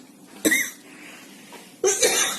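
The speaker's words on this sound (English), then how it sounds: "you'll see me coughing a lot because I am down with a very bad bout of cold" Two sharp, close coughs from someone with a bad cold, the second one a double burst, separated by a quiet pause.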